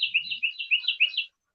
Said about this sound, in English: Oh, what bird's that?